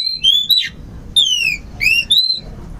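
A male kacer, or magpie-robin, sings nearby in loud, clear whistled phrases, several sliding notes in short bursts separated by brief pauses, over a low background rumble.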